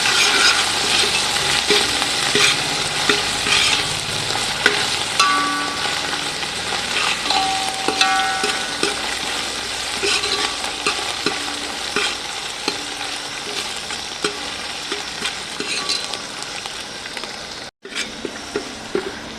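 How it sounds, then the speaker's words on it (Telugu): Ginger garlic paste with mint and coriander frying in hot oil for chicken biryani, a continuous dense sizzle with scraping stirring sounds throughout, close and loud, with a brief break near the end. "అల్లం వెల్లిగడ్డ పేస్ట్ కొంచెం పుదీనాను కొత్తిమీర వేస్తాను ఇప్పుడు కొంచెం ఫ్రై కానీ ఇవ్వాలి దీన్ని నూనె లేయగా ఇవ్వాలి"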